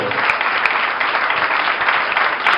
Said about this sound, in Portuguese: dar a mais linda salva de palmas ao Espírito Santo de Deus